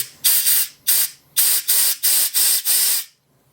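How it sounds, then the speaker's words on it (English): Compressed air blasts dirt out of a brake caliper from a 1985 Suzuki Intruder 750 in a series of loud, sharp hissing bursts, about seven in quick succession, close by and with no talk. "I'll blow all the dirt and stuff back into here"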